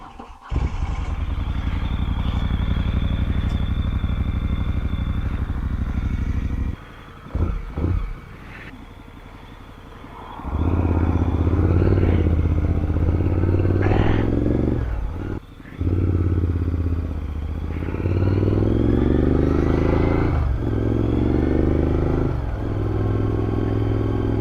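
A motorcycle rides out of town among a large group of riders, its engine droning loud and close, with revving surges, a couple of brief dips as it shifts gears and easing off, then pulling hard again.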